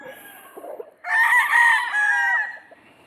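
Seven-month-old broodstag roosters crow loudly and close, one long drawn-out call rising over softer clucking before and after.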